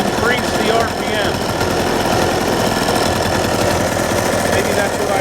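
A P.E. 210 engine, freshly given a top-end inspection and carbon clean-out, revs at raised RPM with a loud, steady, buzzing drone that holds up close without a break.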